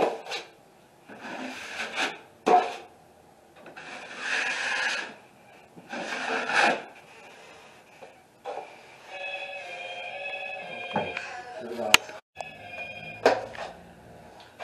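Drywall knife dragging joint compound across a ceiling corner during repair, heard as several close, separate rasping scrapes in short bursts, with quieter gaps and some faint tonal noise between strokes.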